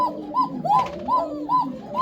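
A fancy pigeon coos nearby in a soft, rhythmic series of rounded, throaty calls, about five coos in quick succession with no talking.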